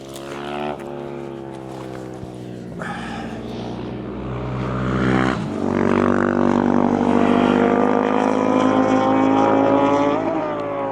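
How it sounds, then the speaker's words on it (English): Loud engines whine and roar as motorbikes pass close by one after another, their pitch rising and falling. "The motorbikes are really annoying me."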